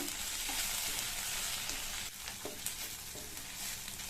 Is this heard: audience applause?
no